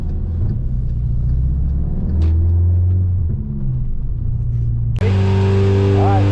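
A big-turbo Volkswagen GLI engine holds a steady low drone on a dyno, rising in pitch midway before a sharper, louder surge near the end as the pull begins.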